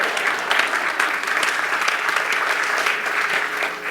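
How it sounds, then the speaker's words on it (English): Steady, dense audience applause fills a room at a history quiz bowl event, a continuous wash of many hands clapping at even loudness throughout, with no voices breaking through. "Round of applause for Harvey."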